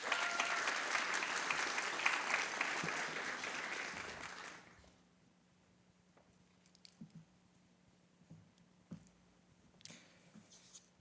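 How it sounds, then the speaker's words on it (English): Audience applause at a panel discussion on equal justice fills the hall loudly for about four seconds, then stops, leaving a quiet room with faint scattered shuffles and small knocks. "Please give him a round of applause."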